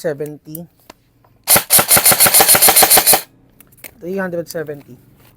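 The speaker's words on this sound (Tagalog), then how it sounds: "Okay, firing. Full auto." Lancer Tactical HFC airsoft rifle firing a rapid full-auto burst of about a dozen crisp, evenly spaced shots lasting under two seconds, with someone talking briefly before and after.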